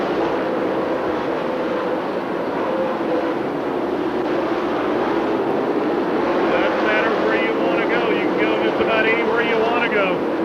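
Dirt late-model race cars, Bloomquist and Ray Cook among them, roar around a dirt oval into turns one and two in a loud, unbroken engine drone, with a race announcer talking over it throughout.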